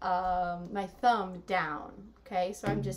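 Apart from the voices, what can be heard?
No distinct noise like a dog, phone or traffic.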